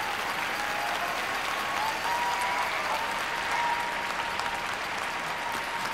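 Dense, sustained applause from a large crowd at a figure skating competition fills the whole stretch, steady and loud without a break.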